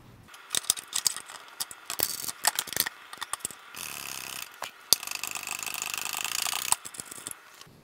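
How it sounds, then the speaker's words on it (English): A workshop press pushes a bearing off a BMW Airhead gearbox part, giving close clicks and ratcheting knocks, then a sustained grinding squeal as the part is forced, ending in a sharp snap and further clicks. "I'm going to use the press. It's just a whole lot easier to press that out of there."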